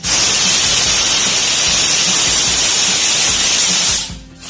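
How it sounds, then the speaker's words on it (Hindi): Pressure cooker on a gas stove at medium flame, cooking carrots for a fasting-day sweet, lets out a loud, steady hissing steam whistle for about four seconds, then cuts off abruptly. "तो कुकर की 3 सीटी आ चुकी है"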